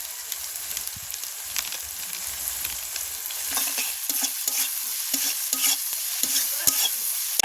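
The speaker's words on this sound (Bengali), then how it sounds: "এবার এর মধ্যে রসুন বাটা দিয়ে দেবো দিয়ে একটু ভালো করে ভেজে নেব" Garlic paste with turmeric and a little sugar frying in a pan for a Bengali tarka, a steady hiss with scraping stirs that grow busier and louder toward the end, heard alone without talk.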